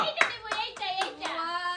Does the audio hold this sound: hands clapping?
yes